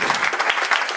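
A concert audience in Sansais claps for a fan-club founder during a short, close burst of applause.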